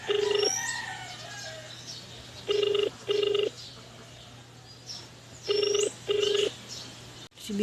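A mobile phone rings out while a call is being placed, with loud electronic tones in pairs of short bursts separated by pauses over a low steady hum.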